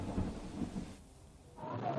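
Monsoon thunder and heavy rain in Dwarka, Gujarat, a deep rolling rumble over steady downpour hiss that dips briefly mid-clip before swelling again, loud and close with no talking.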